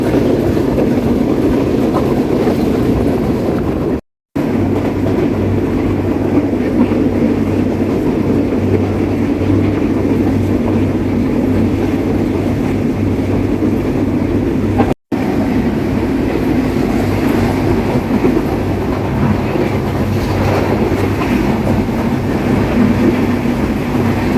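The Rupsha Express passenger train runs on rails with a loud, continuous rumble and a steady rolling clatter of wheels, heard from on board with no talk.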